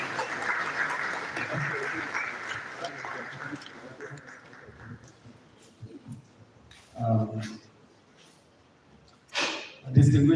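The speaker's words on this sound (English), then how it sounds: "You can keep on clapping while the Vice Chancellor comes." Applause from an audience fills the first few seconds, then fades away, leaving a quiet room with a few brief voices.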